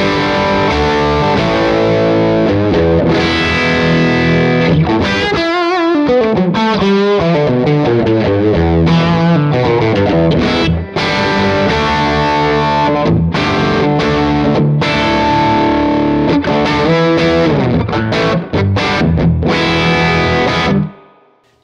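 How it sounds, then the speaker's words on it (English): Electric guitar driven straight into a cranked Fender or Vox amp with no pedals, giving a gritty overdriven tone as a continuous loud riff of chords and single-note runs is played for about twenty seconds. "let's get a good dirty sound just from the amp alone"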